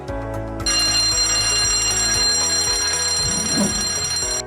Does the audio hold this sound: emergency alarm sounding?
yes